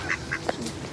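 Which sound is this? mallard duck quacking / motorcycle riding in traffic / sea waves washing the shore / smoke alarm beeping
mallard duck quacking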